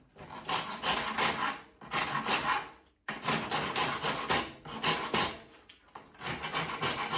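Rasp worked over a wooden Irish walking stick by hand, long scraping strokes in bursts of about a second, separated by short pauses, close and dry.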